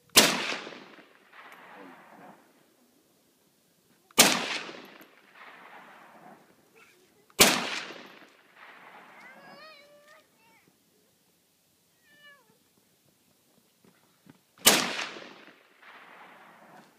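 SKS rifle fired outdoors: four loud, sharp reports with ringing decays, spaced a few seconds apart, with faint chirping and murmured sounds in the gaps between shots.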